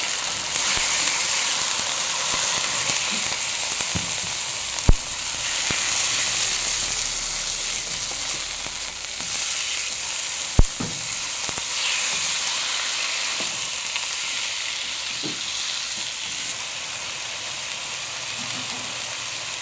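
Chicken fries in a pan with onion and garlic for adobo, giving a steady, close hiss and sizzle with a couple of sharp clatters from a utensil or lid, and no one speaks.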